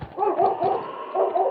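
A dog barks in an old radio drama set in the snowy Yukon: a quick run of five or six loud, close, yelping barks in an uneven rhythm.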